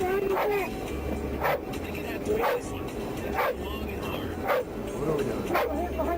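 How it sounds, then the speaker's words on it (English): Dog barks repeatedly, about five sharp yelps spaced a second apart, loud and close during a police bodycam arrest with a car nearby, while officers talk and a steady low hum runs underneath. "Somebody grab this dog."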